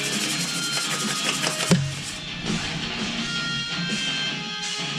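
Rough scraping and rubbing against the brake caliper of a Honda Goldwing motorcycle, a close, continuous abrasive rasp with a brief harder knock partway through, carrying on steadily alone.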